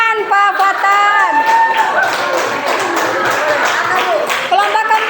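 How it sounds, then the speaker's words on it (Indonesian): Classroom applause for a teacher, a group of students clapping in a loose rhythm while voices chatter and call out over it, close and loud. "kita kasih tepuk tangan Pak Fatan"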